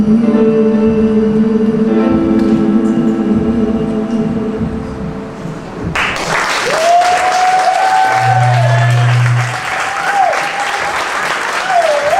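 Scattered applause and clapping from an art show audience, building in after a sustained keyboard passage, with pitched tones sliding over the claps.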